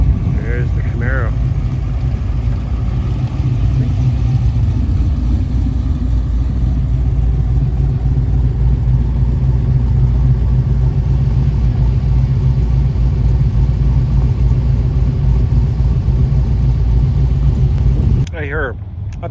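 A Chevrolet Camaro at a car show, its engine a loud, steady low rumble that runs close and continuous for most of the span before dropping off sharply near the end, with people talking around it.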